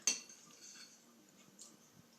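A metal spoon clinks once against a dish while someone eats soft, not-yet-set sugar-free no-bake cookies. A bright tap is followed by a few quieter scrapes and ticks in a near-silent room.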